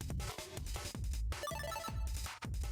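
A phone rings in the horror video game TechnOccult: Covenant, a repeating electronic ring pattern layered over dense, pulsing game sound, fairly quiet overall.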